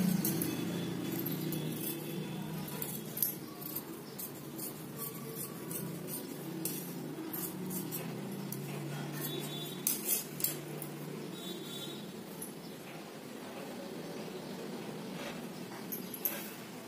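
Scissors cut the back neck of a fabric blouse, giving a run of light metallic snips and clinks over a steady low background hum, with a few sharper clicks standing out.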